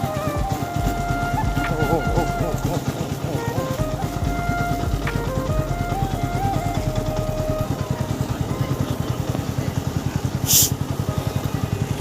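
An NS125 motorcycle runs in fifth gear with a steady, close engine drone and a rapid pulsing rhythm throughout, plus a brief sharp whistle-like tone near the end; a voice speaks faintly beneath the engine.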